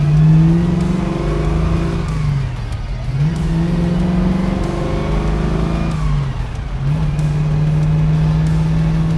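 A 1968 Chevrolet Camaro engine roars loudly and close while driving, rising through revs in repeated pulls with brief dips between shifts, a deep throaty drone throughout without talking.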